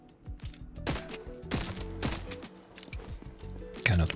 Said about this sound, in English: Cannot break the boxes by shooting.